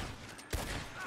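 A single gunshot cracks out once in a Red Dead Redemption 2 shootout, a short, fairly distant thump over a dull background hum.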